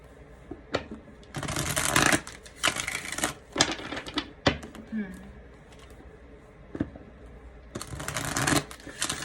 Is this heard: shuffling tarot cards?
yes